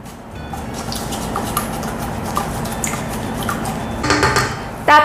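Ingredients for croffle dough are stirred in a bowl, sugar, instant yeast, egg and salt, with soft continuous scraping and clinking of a utensil against the bowl, louder knocks near the end.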